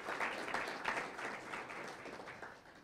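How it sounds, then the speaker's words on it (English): An audience at a scientific workshop session on Antarctic atmosphere and ocean drivers applauds the speakers, a steady, fairly quiet roomful of clapping that continues evenly and fades slightly toward the end. "go ahead and clap for them all again."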